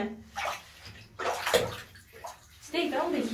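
Water sloshes and splashes in a shallow bathtub as a dog is bathed, in soft irregular bursts heard close up, with voices talking over it.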